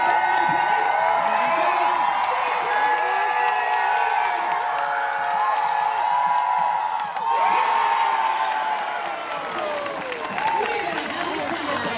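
A big crowd at a state fair stunt dog show cheers loudly for the red team, with sustained whoops, shouting children and scattered clapping merging into a long, swelling roar that dips briefly and surges again.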